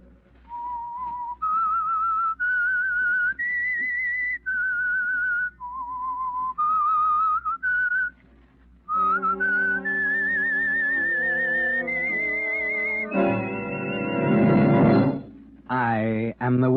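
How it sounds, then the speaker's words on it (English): A lone whistler carries the eerie theme of the 1946 radio drama The Whistler, a slow melody of held, rising and falling notes, loud and close; orchestral music swells in to take over the tune. "That whistle is your signal for the Signal Oil Program"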